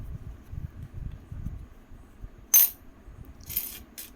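Chinese lucky coins with square center holes are handled up close, with one sharp metallic clink followed by a quick cluster of lighter jingles over a quiet low background.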